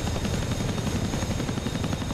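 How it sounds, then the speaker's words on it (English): A CH-47 Chinook helicopter in the flight-simulator game DCS, a steady, loud rotor drone with a rapid pulsing thump and a faint high whine, continuous throughout. "this Chinook flies super fast for a helicopter"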